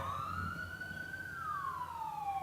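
An ambulance siren wails in one long rising-then-falling sweep, heard at moderate distance over faint low traffic rumble with no voices.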